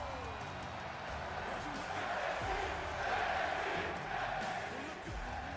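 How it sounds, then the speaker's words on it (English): A WWE NXT wrestling crowd roars continuously in a large arena, a dense sustained wash of cheering and shouting that swells slightly in the middle. "Crowd is hyping NXT right now."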